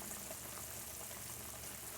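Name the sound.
beef boiling in pot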